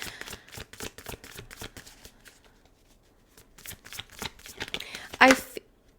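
Tarot cards are shuffled by hand in quick, crisp riffling bursts and soft flicks, close and fairly loud, ending in a sharper snap of cards near the end.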